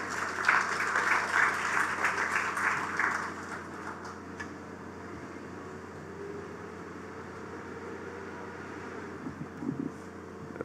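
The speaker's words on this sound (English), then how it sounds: "Please give him a round of applause." A crowd applauds Minister Kirk Humphrey at the outdoor launch of the One Family Programme in Golden Square Freedom Park. The clapping is strongest for about three seconds, then fades into a steady low hum of ambient noise.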